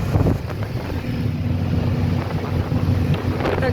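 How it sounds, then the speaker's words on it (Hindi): Wind blowing past while riding in a rickshaw, a steady rushing buffet against the microphone with low rumbling underneath, continuous and fairly loud throughout. "अच्छा मौसम हो रहा है ना, हवा चल रही है"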